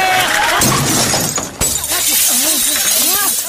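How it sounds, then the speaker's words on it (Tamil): A tube light shatters when a car crashes into it, giving a loud burst of breaking glass and then scattered crashing debris, while excited voices shout over the noise. "ஏட்டையா இடிச்ச வேகத்துல மேல இருக்கிற டியூப் உடைஞ்சு போச்சே"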